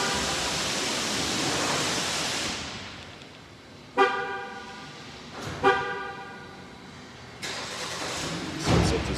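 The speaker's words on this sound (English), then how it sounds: "Do the remote start." A 2019 Jeep Compass Limited 4X4 engine is started remotely by key fob, a broad rushing sound fading out, followed by three separate short horn-like chirps spaced a couple of seconds apart.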